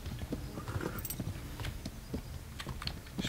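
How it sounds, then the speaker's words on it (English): Horse hooves clip-clop at a steady trotting rhythm in the medieval game Kingdom Come Deliverance, faint and low in the mix. "My horse is getting tired."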